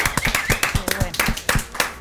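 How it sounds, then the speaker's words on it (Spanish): Audience clapping for Miguel Alaniz at an electronic music television anniversary show, a modest burst of scattered handclaps with irregular rhythm, close by. "un aplausote a Miguel Alaniz"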